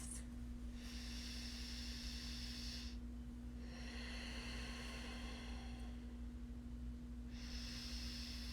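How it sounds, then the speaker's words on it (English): Three slow, deep breaths drawn during a guided group meditation, each a long airy hiss of inhale and exhale, steady and fairly loud over a constant low hum, with no talking. "maybe we'll take 3 deep breaths"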